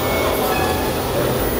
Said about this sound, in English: Train is coming, guys.